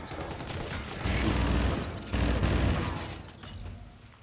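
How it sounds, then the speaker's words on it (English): Continuous video-game gunfire in a first-person shooter, a dense rattling stream of shots with heavier bursts swelling midway, steady and fairly loud throughout with no talk over it. "Shooting at nothing now. Shooting at nothingness."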